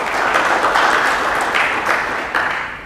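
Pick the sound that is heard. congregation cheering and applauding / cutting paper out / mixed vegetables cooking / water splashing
congregation cheering and applauding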